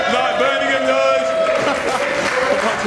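Guests at a wedding cheer together in a loud, continuous swell of crowd voices with some clapping mixed in, close and lively.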